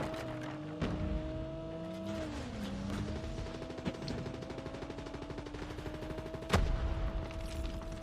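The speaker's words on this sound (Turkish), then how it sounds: "Keskin atıyor bir yerde." Gunfire from a sniper in the Call of Duty Mobile video game, with a steady mechanical drone underneath, a crack near the start, a sharp loud shot near the end and quieter shots between.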